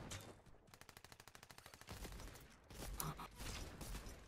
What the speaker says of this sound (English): Stockton and I having an SMG battle